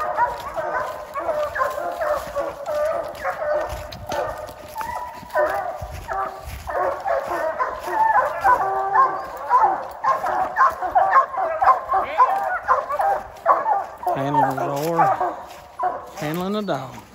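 Coonhounds bark, bay and yip at the tree during a competitive coon hunt at night, a dense chorus of several dogs at close range, with people talking over the barking.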